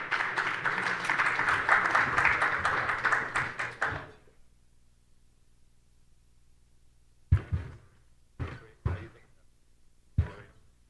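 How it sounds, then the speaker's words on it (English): An audience at a Miami capital summit applauds steadily for about four seconds as panelists come on stage, then the clapping stops and a few isolated knocks or taps follow in the quiet. "Let's give the next panelists a round of applause."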